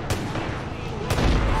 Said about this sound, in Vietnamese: Đây là gọi là bắn đánh lạc hướng đối phương anh em.